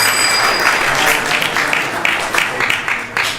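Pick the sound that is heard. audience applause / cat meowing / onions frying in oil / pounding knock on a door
audience applause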